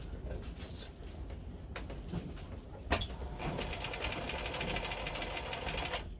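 A restored Bernina 830 Record sewing machine stitches a fancy stitch on fabric, running in a steady, fast mechanical rhythm with a sharp click partway through, fairly quiet and without talking.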